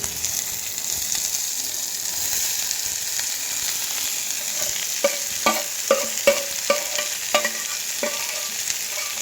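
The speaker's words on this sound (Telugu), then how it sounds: "సో మనం ఎర్రగడ్డ వేసుకున్నాం కదా, సో మనం మంచిగా వేయించుకుందాం." Sliced onions fry in oil with green chillies in a pan, a continuous sizzle broken in the second half by a series of sharp, rhythmic scrapes and knocks of a spoon stirring against the pan.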